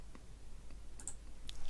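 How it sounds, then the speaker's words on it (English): Several light computer mouse clicks, quiet and close, spaced irregularly over a faint room hiss. "I'm just going to click, and maybe a little bit down, just click 5 or 6 times"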